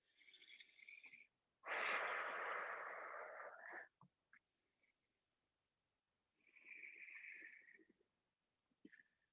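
Slow, deep breaths during a yoga lunge with the back knee down: a short inhale, a long airy exhale, then another inhale after a quiet pause, close and soft.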